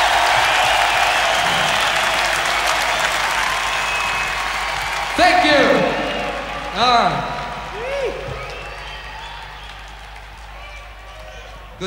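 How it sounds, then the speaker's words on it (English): An audience claps at a rock concert in Munich, 1977; a broad, steady wash of applause swells, then fades under scattered guitar feedback tones. "Good claps tonight."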